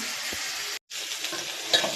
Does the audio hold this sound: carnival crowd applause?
no